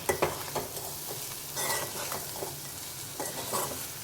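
Egg curry with coriander powder and fresh coriander leaves stirred in a hot pan, a close sizzle under repeated scraping strokes of a spoon, irregular and fairly soft.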